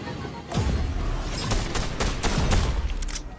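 Rapid bursts of gunfire from the video game Fortnite, several sharp shots in quick succession, loud and close with a rumbling low end.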